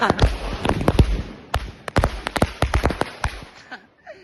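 Rope bomb firecrackers go off during Diwali celebrations in a rapid, uneven chain of loud, close bangs and cracks, with voices heard among the blasts before they trail off.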